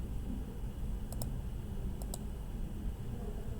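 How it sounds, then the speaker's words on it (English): Keys tapped on a computer keyboard while entering a calculation, heard as two faint pairs of quick clicks over a steady low room hum, with no talking. "I'm just typing this in sort of behind the scenes."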